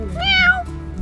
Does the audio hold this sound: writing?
no